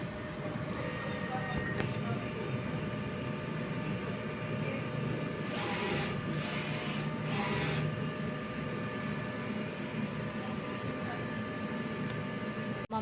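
DTF printer running a nozzle check, a steady mechanical hum and whir with a few brief bursts of carriage movement midway, close and continuous.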